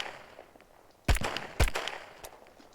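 Gunfire in the video game Will To Live Online as a firearm is emptied: two sharp loud shots about half a second apart, then a fainter third report, each with a brief echoing tail.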